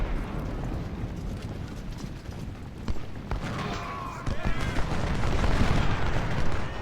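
Gunfire in the Civil War strategy game Ultimate General: Civil War, volleys poured onto cavalry, with dense crackling musket shots and rumbling battle noise that swell louder toward the end.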